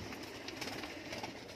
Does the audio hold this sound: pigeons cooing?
yes